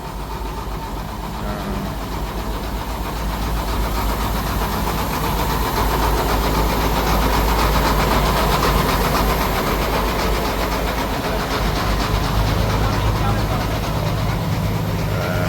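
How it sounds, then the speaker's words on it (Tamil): Heavy vehicles approach with engines running, a dense continuous rumble that swells slightly and holds steady, with people talking faintly in the background. "கனரக வாகனங்கள் இப்போ வந்து கொண்டிருக்குது"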